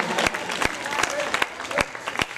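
Dense, steady applause from an audience at a Punjabi mehfil-e-mushaira poetry gathering. Many hands clap continuously, with a few sharper claps standing out, and faint voices can be heard in the crowd.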